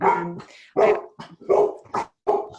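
A dog barks loudly and close by, giving about six sharp barks in an uneven rhythm with short pauses between them. No one talks.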